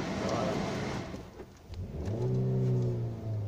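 Car engine revving gently as a learner driver eases off the brake in first gear during a first driving lesson, a low steady hum rising to a sustained rev, with brief muffled voices in the car.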